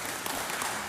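A crowd applauds a standout bowls shot in the final of a 2024 National Triples masters event: a dense, steady patter of clapping, moderately loud, filling the whole second.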